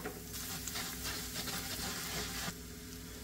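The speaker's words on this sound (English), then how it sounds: "And now I'm gonna add in also a nice sized pad of butter." Butter sizzles and fries steadily in a pan with foraged lobster mushrooms, a continuous close crackle with stirring, the frying briefly louder in the middle before settling back to a softer hiss.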